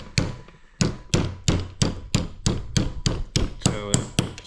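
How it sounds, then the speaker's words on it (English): An old ball peen hammer taps a 1/4 inch drive deep socket to seat an injector on a Ford Super Duty truck, about a dozen sharp metallic strikes at a steady, unhurried pace, close and loud. "there's my old ball peen hammer, and we're just gonna go give that a little taparoo"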